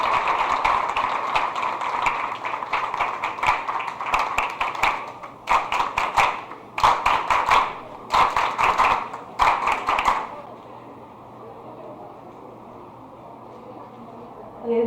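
An audience at a nursing school ceremony in Les Cayes applauds the director with steady, dense clapping for about ten seconds, then it fades out into quiet room noise.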